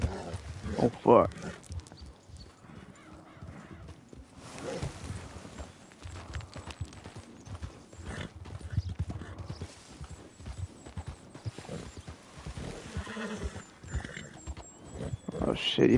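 In Red Dead Redemption 2, a horse's hooves clatter in a long, continuous clip-clop with a couple of whinnies, close and fairly loud, as someone talks intermittently over the riding.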